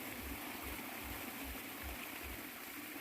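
Water running and splashing steadily as a fishing net is emptied and drained in a pond, a continuous close rushing flow with low rhythmic sloshing pulses underneath.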